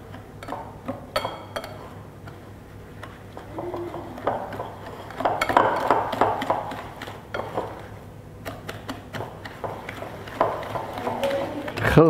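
Chocolate cookie dough ingredients are mixed in a bowl, giving soft, irregular scraping and clinking of a utensil against the bowl, close and moderately quiet, with a low steady hum beneath.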